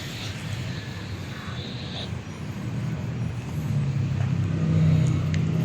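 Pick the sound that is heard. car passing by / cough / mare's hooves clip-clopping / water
car passing by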